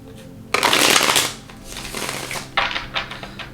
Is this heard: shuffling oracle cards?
yes